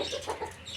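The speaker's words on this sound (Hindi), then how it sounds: "ये मुर्गी भी अंदर घुसी हुई है, निकलो बाहर।" A hen gives a few short, soft clucks in quick succession, close by, over a faint steady background.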